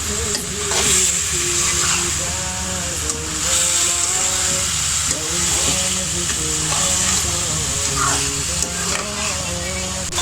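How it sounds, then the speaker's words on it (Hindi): Chinese chicken samosa filling of chicken with white pepper, chili sauce, soy sauce and vinegar being stirred and mixed in a pan, a steady close sizzle with scraping under continuous background music. "इसमें व्हाइट मिर्च ऐड करेंगे जो हमने पहले से पीस के रखी थी और इसे अच्छी तरह मिक्स कर देंगे।"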